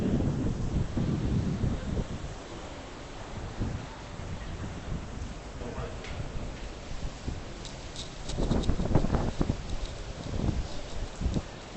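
Strong typhoon wind at Victoria Harbour, Hong Kong, roars and buffets continuously, with heavier gusts of about 100 to 140 km/h surging near the end, rushing noise filling the whole stretch.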